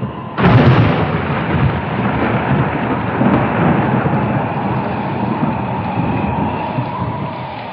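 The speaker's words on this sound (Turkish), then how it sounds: "Görülmemiş bir yağmur." Heavy rain pours down with a loud crack of thunder at the start, followed by a dense, steady roar of downpour and rumbling that lasts throughout, close and loud with no voices.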